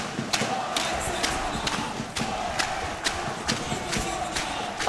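Crowd noise at a Valorant esports grand final on stage (VCT Ascension, BME vs SPG): a steady roar of spectators with repeated bursts of cheering and thumping, loud and continuous throughout.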